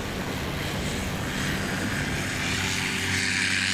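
A 2008 Chinook Plus 2 light aircraft with a Rotax 912 engine takes off short at a STOL event in Jennings, Louisiana. The propeller engine drones steadily and loudly throughout, with no talk.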